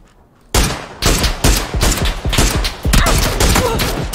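Rapid bursts of gunfire in the PUBG battle royale game, opening after a brief quiet moment and then crackling in repeated loud volleys, with dense, overlapping shots continuing to the end.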